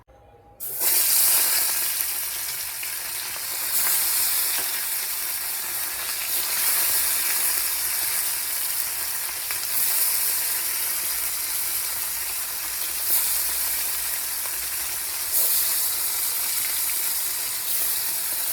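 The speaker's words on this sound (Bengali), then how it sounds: "কড়াইও গরম হয়ে গেছে তেল দিয়ে দিয়েছি মাছগুলো ভেজে নিই তাড়াতাড়ি" Fish frying in hot oil in a kadai, a steady, loud sizzling hiss that starts abruptly and continues without pause, swelling slightly now and then.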